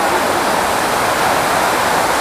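Water features at a theme park splash and rush in a dense, loud, continuous spray, close by and steady with no pauses.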